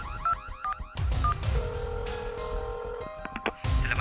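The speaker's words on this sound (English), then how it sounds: "Oh, it's the emergency alarm." An emergency alarm sounds inside an office building with an electronic warbling, steady tone that pulses on and off, fairly loud and alone, with brief gaps between bursts.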